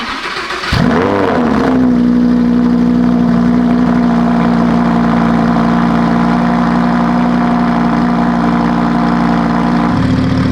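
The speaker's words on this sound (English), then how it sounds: "Here's the Lamborghini exhaust." A Lamborghini engine starts with a burst, then idles loudly and steadily with a deep, throaty drone from its titanium exhaust close by.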